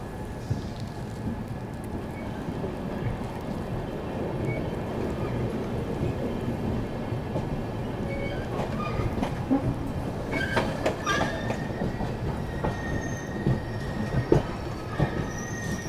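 The Purushottam Express rolls on after leaving Gomoh station, a continuous rumble of wheels on track with metallic squeals and faint clatter rising toward the end, heard from inside a first AC coach without speech.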